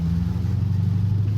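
The 5.7 Hemi V8 of a 2013 Chrysler 300C drones in a low, steady, loud rumble, heard briefly and close up with no voices.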